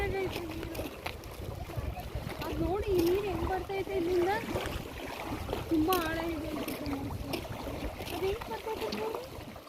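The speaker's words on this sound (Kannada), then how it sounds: "ಅಲೆ ಅಲೆ ಅಲೆ ಬರ್ತಾ ಇದೆ ಅಲೆ" Foamy waves surge and splash repeatedly nearby, a rough churning water sound under people talking loudly throughout.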